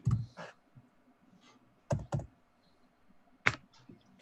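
Keys on a computer keyboard clack in sparse, irregular bursts, a few isolated presses and quick double taps, fairly close but quiet against a low background hum.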